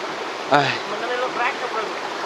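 A forest stream in the hills of Lam Dong, Vietnam, flows with a steady broadband rush of water. Brief, faint voices rise above it now and then.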